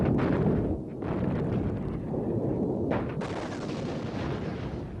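Archival 1973 Yom Kippur War footage of artillery firing at long range against Syrian positions: a dense, continuous roar of booms and rumble, loud and unbroken, with no talk.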